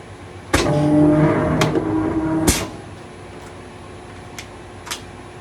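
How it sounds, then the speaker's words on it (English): A die cutting press with a premium ground roll slices through Sintra sheet against orange cutting pads, giving one sharp clack, a humming mechanical run of about two seconds, then a second clack and a few faint ticks. "we're cutting Sintra with a premium ground roll, and we're cutting against our orange pads"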